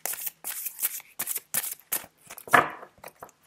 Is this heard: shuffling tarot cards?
yes